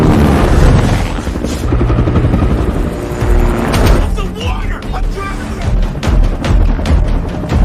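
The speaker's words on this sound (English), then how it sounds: "The helicopter shows up, and the chase resumes once again." A police helicopter in an action-movie chase, its rotor thumping loudly amid dense engine roar and impacts, with voices and shouting mixed in.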